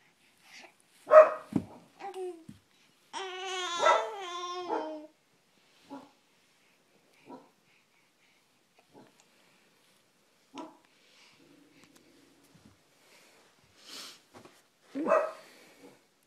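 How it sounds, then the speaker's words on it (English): A dog barks, yips and whimpers in a quiet room: scattered short barks and a drawn-out whining yelp near the start, then sparse single barks with long silences between them. "What's that doggy barking at?"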